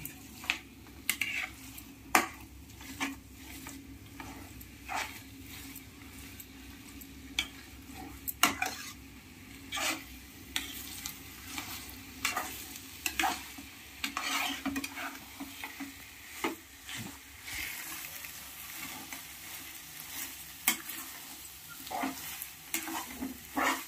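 Poha sizzling and frying in a pan over high heat while being stirred, with steady crackle and repeated scraping, clinking stirs of a utensil against the metal throughout.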